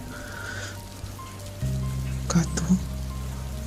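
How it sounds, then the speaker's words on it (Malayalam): A steady rain sound effect patters behind a voice narrating an audio story, with a couple of short knocking sounds partway through. "എന്തൊരു മഴയായത്!"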